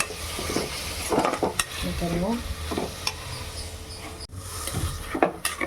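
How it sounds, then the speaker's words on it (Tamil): Tomatoes sautéing in a pan for vegetable biryani, a close, continuous sizzle broken by repeated scraping and clinking of a spoon against the pan, with faint voices briefly in the background. "தக்காளி சேர்த்து நல்லா வதக்கிக்கலாம்"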